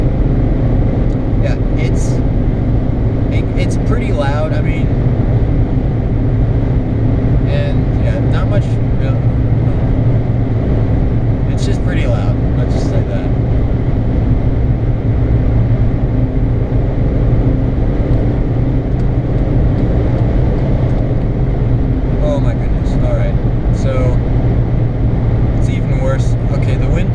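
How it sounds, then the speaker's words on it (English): Inside a Skoda Fabia driving fast on the German autobahn: steady loud low road and engine rumble with heavy wind roar throughout, constant and unbroken, with occasional faint higher rattles above it. "just the noise of the car"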